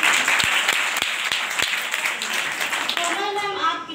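Clapping from an audience at a school farewell ceremony for eighth-grade girls in Biswan, Sitapur, with a few sharp distinct claps over a background of voices and a brief vocal passage near the end.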